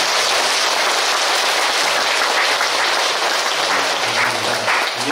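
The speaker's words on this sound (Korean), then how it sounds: "주신 주지스님께 한번 큰 박수 부탁드리겠습니다." Audience at a Korean Buddhist temple gathering applauding the abbot, a dense, loud, steady wash of clapping that carries on evenly throughout.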